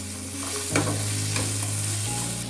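Star fruit chutney sizzles in a frying pan as a spoon or spatula scrapes and stirs it, making close, steady frying noise with occasional clatters.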